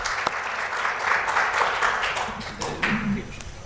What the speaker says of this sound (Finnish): eiköhän anneta loistavat aplodit panelisteille ja hyville keskustelijoille